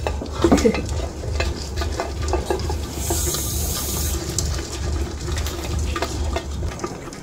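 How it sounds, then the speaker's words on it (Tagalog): Rice being stir-fried in a pan at home, with steady sizzling and frying under repeated scraping and clinking of a spatula against the pan, moderately close and continuous throughout. "Atin po lang po siyang isasangag."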